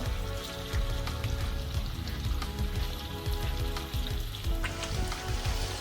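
Salmon bites searing in a hot pan, a steady crackling sizzle of oil with pops and spatters, close and continuous, no voices.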